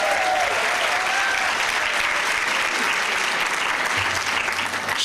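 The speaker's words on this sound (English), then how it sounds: "Sheila Oliver, you can all applaud now." Sustained audience applause at a lecture event, a dense wash of clapping from a large crowd that stays steady and loud throughout, with no clear voices over it.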